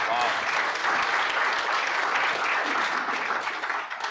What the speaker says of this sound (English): give her a clap, guys